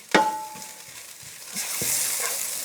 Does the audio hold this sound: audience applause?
no